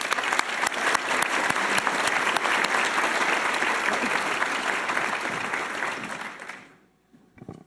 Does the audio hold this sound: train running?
no